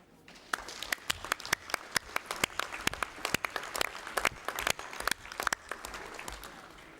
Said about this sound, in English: I think this is worth an applause.